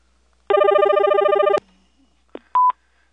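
A phone being tested gives one loud buzzy electronic ring lasting about a second, then a short click and a brief clean beep in an otherwise quiet room.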